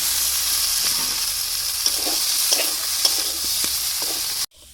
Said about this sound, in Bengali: এখন দিয়ে দেবো ভেজে রাখা আলু ফুলকপি